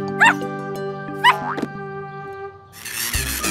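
A cartoon puppy gives two quick, high yipping barks about a second apart over a sustained musical backing, and a burst of noisy sound effect follows near the end.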